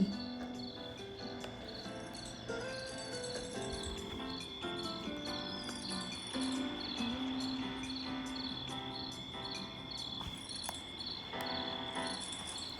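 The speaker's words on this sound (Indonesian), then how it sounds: "terus ada bunyi jangkrik ya" Crickets chirp steadily at night, a dense continuous pulsing trill that runs unbroken and fairly close, with no talking over it.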